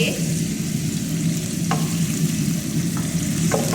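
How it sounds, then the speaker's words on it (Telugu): Dried fish frying in oil, a steady close sizzle running throughout with a few sharp clinks of a utensil stirring the pan. "బాగా కడిగేసుకొని నూనెలో వేసుకొని ముందు బాగా ఫ్రై చేసుకోవాలి"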